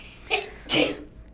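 A person sneezes twice in quick succession during a radio news reading, a short intake followed by a louder, sharper burst, close and alone.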